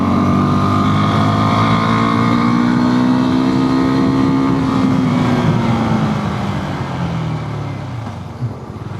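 Porsche Macan accelerating along a main street to the airport in Colombia, a loud, close engine rising in pitch then easing off as it passes, with its exhaust popping faintly near the end.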